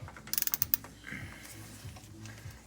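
Ratchet wrench on the front brake caliper bolts of a 1976 Mercury Comet, a quick run of about seven sharp close clicks, then softer slower ratcheting and faint mechanical creaks, with no talking.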